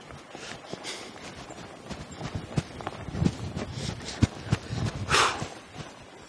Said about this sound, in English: Now, I'm going to sit down and stop the horse.